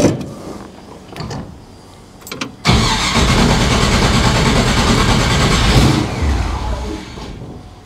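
The engine of a 1955 Chevrolet Nomad gasser with a Holley carburetor cranks briefly, then fires and settles into a loud, rough, steady run, close and without talk.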